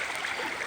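Water in a flooded river rushes steadily near a burned-down house, a loud, continuous broadband wash with no talk.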